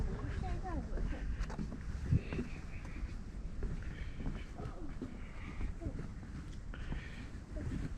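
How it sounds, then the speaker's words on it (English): Steady outdoor wind buffets the microphone at Blandford Nature Center on a cold day, a continuous low rumble that runs the whole time beneath intermittent nearby talking. "There's a little bit of wind."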